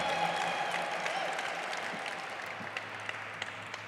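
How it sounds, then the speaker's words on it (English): A live audience claps in a steady round of applause at an American Indian Heritage Month celebration, dense and continuous at first and thinning gradually toward the end. "Big round of applause, another big O for Aurora Mamea"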